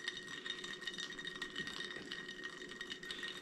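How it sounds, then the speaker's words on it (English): Steady light clinking and rattling of ice cubes in a highball glass, close up and continuous, with no talking. "All right, let's pour a little over ice."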